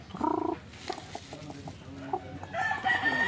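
Chickens cluck and a rooster crows nearby, short bursts over a low background murmur, from Filipino native chickens eating from a person's palm.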